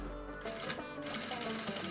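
Sewing machine running continuously as it stitches a seam on a corset pattern for an elegant dress, a steady mechanical whir with a slight rhythmic pulse, close and moderately loud.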